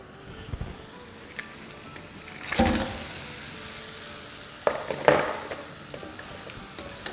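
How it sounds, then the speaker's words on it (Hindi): Mutton chops frying with garlic in a pan, a low steady sizzle with a few louder bursts of spitting and stirring scrapes as the meat is tossed. "तो बस लहसुन के साथ भी 1 मिनट भूनेंगे और अब इसमें हम डालेंगे चापें।"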